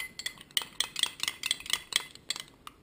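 Pesto thinned with olive oil is stirred in a dish, giving a quick, uneven run of light clinks and scrapes of a utensil against the bowl, close up with no talking.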